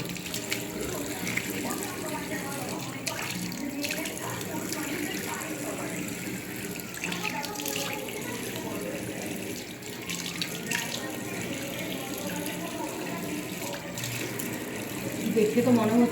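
Tap water runs steadily and fairly loud while a freshly scrubbed face is rinsed, a continuous splashing wash from start to finish.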